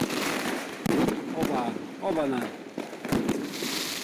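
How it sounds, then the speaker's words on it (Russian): Fireworks and firecrackers bursting outdoors on New Year's night in Yakutsk, with sharp cracks and booms scattered over continuous crackling, while a man exclaims loudly over them. "покупают себе вот эти вот фейерверки,"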